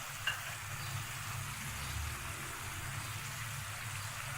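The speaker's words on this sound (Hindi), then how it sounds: "अब मैं मसाले की भुनाई कर रही हूँ।" Salt, turmeric, ground cumin and garam masala frying in a pan for daal mash, giving a soft, steady sizzle close by with a faint low hum underneath and no speech.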